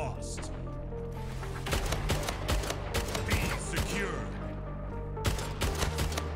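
The BFB weapon firing in the shooter game Splitgate, a rapid cluster of sharp, punchy shots with mechanical clatter, loud and close, over a steady low background hum.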